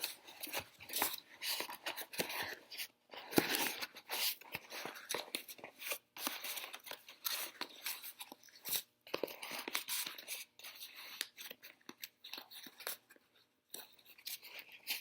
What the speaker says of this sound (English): I'm going to take my piece of paper and I'm going to start crumpling it inside on itself